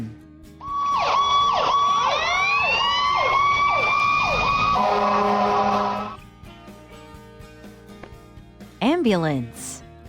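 A fire engine siren wails loudly and steadily in repeated rising-falling sweeps for about five seconds, then stops abruptly and leaves a quieter background with a brief chirping sound near the end.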